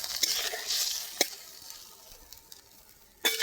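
Amudi fish curry with potatoes and ground coriander and cumin is stirred in a pan, with a soft sizzle, a few sharp spatula scrapes and a louder stir at the end, close and otherwise quiet.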